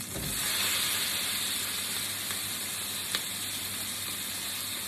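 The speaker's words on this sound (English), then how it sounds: "We're cooking bacon." Half a kilo of diced bacon frying in butter and a little sesame oil, a steady close hiss and sizzle that swells at first and then settles, with a faint tap partway through and no voices.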